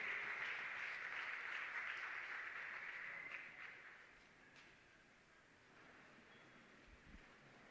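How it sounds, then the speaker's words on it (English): An audience applauds arriving leadership at a police campus community safety forum launch at Mopani TVET College. Steady crowd clapping carries for about four seconds, then thins out and fades into quieter room noise. "Let's clap hands."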